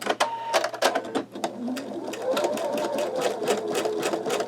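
An embroidery machine runs a basting stitch around a sugar skull design, a rapid mechanical needle chatter with irregular clicks and a rising whirr, close and fairly loud, with no speech over it.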